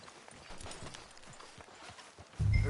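Horse hooves clip-clop at a steady walking rhythm in Red Dead Redemption 2, each clear and close, ending in a louder low thump.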